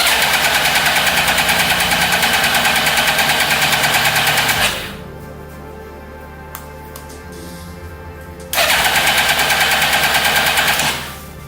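A swapped-in Suzuki GSX-R SRAD engine, a project with a fuel pump fault, runs loud and close with a rapid, buzzing rattle. It sags to a quieter, lower running level for several seconds, then surges back to full, harsh revving.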